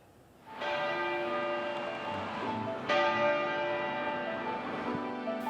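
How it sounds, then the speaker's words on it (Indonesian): Westminster Abbey's church bell in London tolling in tribute to Prince Philip, with two loud, ringing strikes whose long, shimmering hum carries on between them. "Gereja Westminster Abbey di London, Inggris membunyikan lonceng sebanyak 99 kali sebagai bentuk penghormatan untuk Pangeran Philip"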